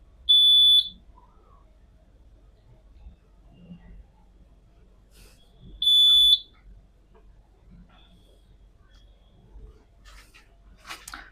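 An addressable fire alarm sounder, triggered when smoke reaches a smoke detector, gives two short, loud, piercing electronic tones a few seconds apart, with quiet room noise and faint handling sounds between them.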